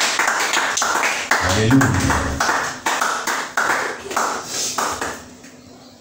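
A church congregation claps in acclaim, and the steady, rapid claps run the whole time. A voice calls out over them, with a sung or chanted voice rising briefly early on.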